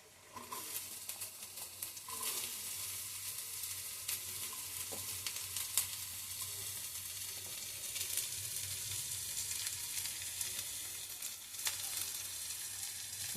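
Onion sizzles and crackles steadily in a hot pan for an eggplant bharta with egg, with occasional stirring scrapes and small pops throughout, close and continuous with no talking.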